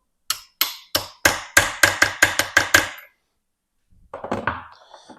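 A hammer strikes a socket to drive a part into a Classic Mini gearbox differential unit, with a dozen sharp metallic taps in a quick, fairly even rhythm, followed after a pause by a few softer clinks.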